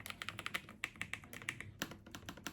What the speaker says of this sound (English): I don't have to use a lot of force while typing with the Lofree keyboard